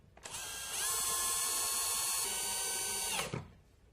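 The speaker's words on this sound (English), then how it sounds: "Use the screws provided to secure the device into the box." A power driver runs screws into an electrical wall box to secure a GE Z-Wave in-wall paddle light switch, giving one steady, fairly close whirring burst of about three seconds that ends sharply.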